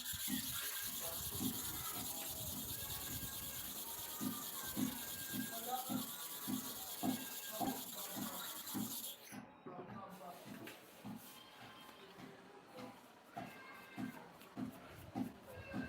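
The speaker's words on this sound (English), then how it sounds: "So I'm sharpening the other side now 30 times again." A hair clipper blade is sharpened with a steady series of rhythmic rasping rubbing strokes, close and fairly quiet, alongside a voice.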